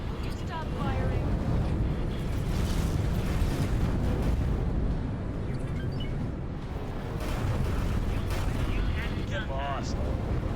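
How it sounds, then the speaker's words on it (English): Weapons firing in the space game X4 Foundations, a dense, continuous rumble of blasts and bursts that keeps going for the whole stretch, with radio chatter from voices over the top. "will you stop firing?"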